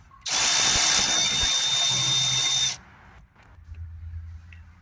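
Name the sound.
power driver removing screws around Mercedes ML ECU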